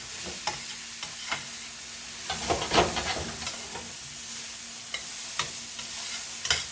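Vegan vegetable fried rice sizzles softly in a pan, a steady low crackle with a few sharper scrapes and stirring knocks scattered throughout.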